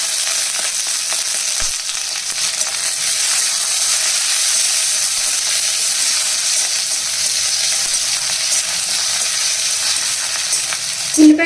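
Onions, green chillies and curry leaves frying in hot oil in a kadai, giving a steady, close, bright sizzle with faint stirring throughout, and a brief sharp tap near the end.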